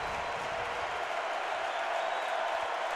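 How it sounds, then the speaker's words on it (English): Broad steady roar of a basketball arena crowd cheering at a Northwestern Wildcats versus Minnesota Golden Gophers men's game, a dense continuous wash of voices with no distinct pauses. "And listen to this crowd,"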